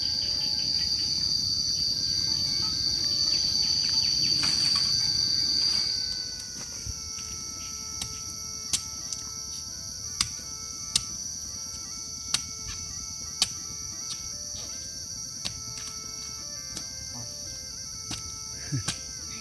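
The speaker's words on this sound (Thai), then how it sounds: "ถึงจะเป็นเสียงแมงอีห้องเด้อ" A steady high cricket trill from a maeng i hong insect sounds for several seconds, then cuts out, leaving sparse sharp ticks over quiet night-like background.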